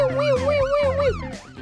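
A police car siren wails close by in a steady rising-and-falling tone, with other voices mixed in underneath.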